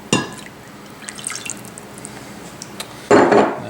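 Water poured into a miso sauce mixture in a kitchen, a sharp splash at the start, a few scattered drips and clinks, then a second louder pour near the end.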